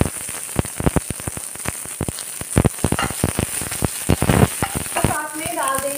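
Onions tipped into hot oil already crackling with cumin, coriander, black pepper and cinnamon for a dhaba-style cheese tomato dish, a close, busy sizzle with sharp spitting pops and stirring scrapes, a brief voice near the end.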